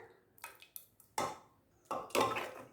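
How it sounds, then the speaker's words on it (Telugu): A metal ladle mashes cooked amaranth greens and chana dal in a pot, making several irregular soft thuds and scraping knocks that are faint and close. "చూస్తున్నారా, గరిటెతో ఇలా మెదుపుకుంటే"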